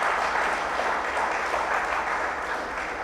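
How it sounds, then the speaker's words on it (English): A rousing round of audience applause, dense and sustained, with many hands clapping at an even level from start to finish and no voices on top. "we really want to give him a big rousing round of applause again"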